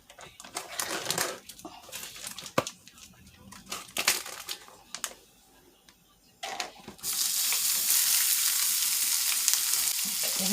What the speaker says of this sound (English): let's start browning this up